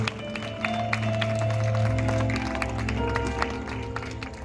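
Worshippers at a revival meeting in Vijayawada clap in unison, a dense, continuous patter of hands running throughout, mixed with sustained musical tones and crowd noise.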